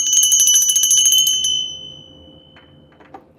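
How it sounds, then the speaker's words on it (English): A bright bell rings steadily and loudly for about a second and a half, then its tone fades away, followed by faint light clinks. "Let me ring the bell."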